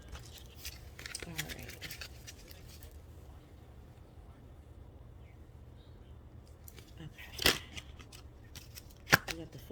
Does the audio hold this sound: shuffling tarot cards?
yes